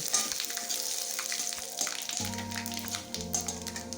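Dried red chillies, black cumin and panch phoron sizzling in hot oil, a steady close crackling fry with a low tonal hum joining partway through, no speech.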